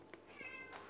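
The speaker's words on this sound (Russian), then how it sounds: "Мяу, да? Мяу." A single short cat meow, faint and nearby, in a quiet kitchen.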